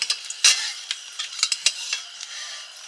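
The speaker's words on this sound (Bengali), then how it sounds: "কড়াইটা গরম হয়ে গেছে এবার আলুগুলো ভেজে নেব" Small round potatoes fry in a hot wok with dried chillies, a soft sizzle under a series of sharp spatula scrapes and clinks, close by.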